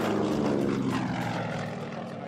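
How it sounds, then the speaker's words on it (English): A Yak 55 aerobatic airplane roars loudly and close with a steady, throbbing engine and propeller drone that eases slightly toward the end, with no voices. "And Bud flies a red-hot hot rod, the Yak 55."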